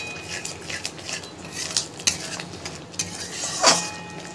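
Something is being stirred and fried in a cooking pan, with a soft continuous sizzle under irregular clinks and scrapes of a utensil against the pan, close and fairly quiet.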